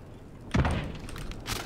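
A door in Call of Duty Warzone opens with a single soft thunk followed by a brief sliding rumble, fairly quiet and close, then a second faint rustle.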